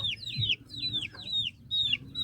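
Chickens cluck repeatedly in quick rhythmic calls, close and fairly loud, with a low voice or two murmuring underneath.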